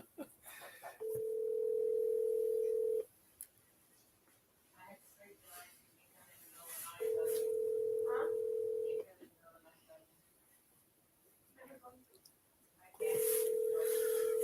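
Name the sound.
phone ringing during an outgoing call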